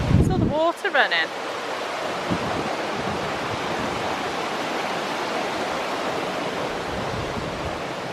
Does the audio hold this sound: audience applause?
no